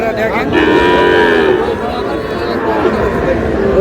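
Sahiwal bulls and calves at a busy cattle market in Ghoraghat, Dinajpur, lowing in long drawn-out moos one after another over a constant murmur of crowd chatter and voices.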